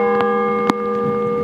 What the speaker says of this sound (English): The bells will toll here 19 times